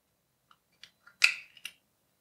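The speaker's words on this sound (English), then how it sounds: "Now we can open the gearbox." Plastic gearbox housing of a Xiaomi Townew T1 lid motor assembly is pried open: a few small, sharp clicks and snaps, then a short scraping crack and another snap, close and isolated in quiet.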